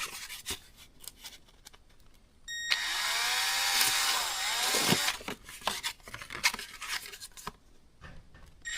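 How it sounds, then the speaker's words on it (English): A power drill spins up and bores steadily for a couple of seconds while installing wiring in a 1968 Chevrolet C10, its pitch sagging under load, surrounded by scraping and tapping workshop sounds. "Go ahead and drill this out."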